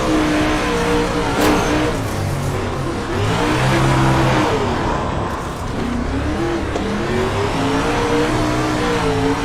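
Loud, continuous car engine in the iRacing sim, revving and surging up and down while drifting, with faint tire squeal mixed in and no talk.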